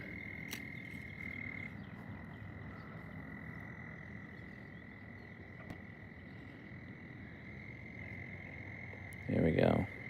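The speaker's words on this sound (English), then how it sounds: "it's spring, and you can hear that in the background, all the frogs" Spring frogs croak steadily from a pond in the background, with faint crickets mixed in. A voice speaks over the chorus, and a brief loud rustle follows near the end.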